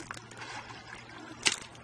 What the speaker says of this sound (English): bail the silt out of the water here to help it clean up faster